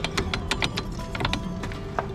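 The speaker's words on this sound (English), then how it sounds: "these are supposed to keep the caliper from rattling so much." Loose brake caliper on a Chevrolet Corvette C4, missing its anti-rattle clips, gives off a quick series of sharp metallic clicks and rattles, close and distinct against a low steady background.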